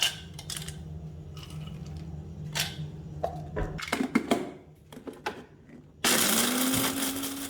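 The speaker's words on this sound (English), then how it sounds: "I'll blend ogbono." Ogbono seeds tapped and shifted in a blender jug, then the motor starts loudly and runs steadily at the end.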